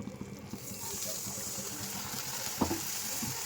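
Pieces of bread frying in a pan while being stirred, a faint steady sizzle and hiss with soft scraping and one small clink.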